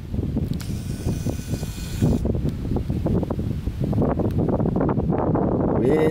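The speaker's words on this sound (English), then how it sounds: "Windy, windy, storms are coming." Strong wind gusting over a lake at a Pocono lake house ahead of storms, a loud, continuous rumbling buffet that batters the microphone throughout.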